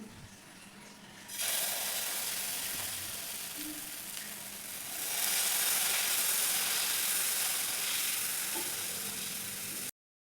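Wheat flour dosa batter sizzles on a hot tawa, starting as a softer hiss and jumping to a loud, steady broadband sizzle after about a second, swelling further midway and holding close and continuous with no talking.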